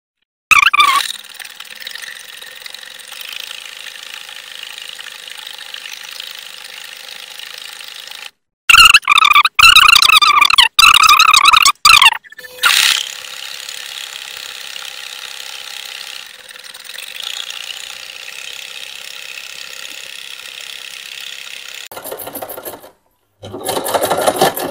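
A Singer SM024 sewing machine stitches an embroidery design with a steady mechanical whir that runs for long stretches. A louder, harsher burst of rapid clattering comes in the middle, and the machine stops briefly near the end.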